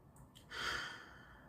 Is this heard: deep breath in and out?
yes